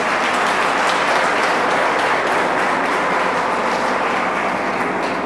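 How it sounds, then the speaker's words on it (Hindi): A seated audience at a talk for IAS aspirants gives a big round of applause. The clapping is steady and dense, a continuous wash of many hands at an even level from start to finish. "Ladies and gentlemen, why not to give a big round of applause?"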